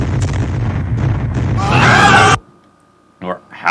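A dense, loud rumble of booming video game cannon volleys that swells into a roaring crescendo, then cuts off abruptly, followed by a brief voice.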